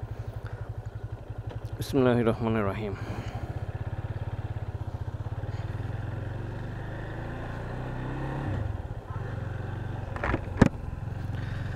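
A Yamaha FZ25 250cc motorcycle idles close by, its exhaust giving a steady, low, pulsing throb throughout, with a brief sharper blip near the end. Someone speaks briefly early on over the engine.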